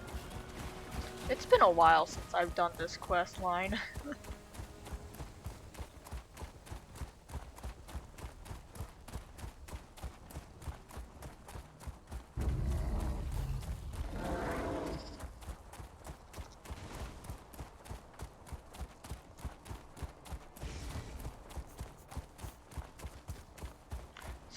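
Hooves of a horse clip-clop steadily in Elder Scrolls Online, a fast, even beat running under a voice talking over it.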